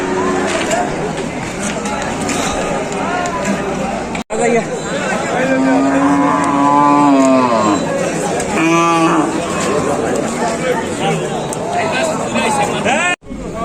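A cow lows loudly and repeatedly at the Manipura cattle market, drawn-out moos rising over constant crowd chatter and bargaining voices close by.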